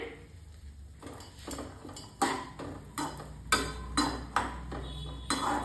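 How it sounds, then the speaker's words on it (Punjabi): Raisins fry in a kadai while a spoon stirs them, producing repeated sharp metallic scrapes and taps against the pan at an uneven rhythm over a low sizzle, close and moderately quiet. "ਇਸੇ ਕੜਾਈ ਦੇ ਵਿੱਚ ਆਪਾਂ ਨੇ ਇੱਕ ਕੋਲੀ ਕਿਸ਼ਮਿਸ਼ ਨੂੰ ਵੀ ਫਰਾਈ ਕਰ ਲੈਣਾ ਹੈ"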